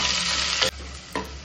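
Thinly sliced onions fry in hot oil for chicken biryani, giving a dense, bright sizzle broken by two quick stirring clanks.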